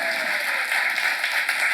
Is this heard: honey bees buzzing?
no